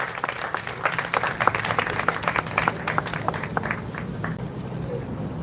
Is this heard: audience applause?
yes